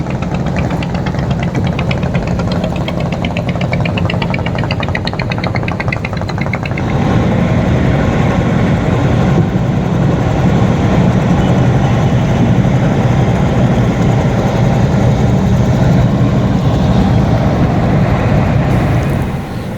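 A steady, loud low engine drone runs throughout, the motor of the Parbat 18 river boat on the Buriganga in Bangladesh, growing a little fuller partway through with no voices over it.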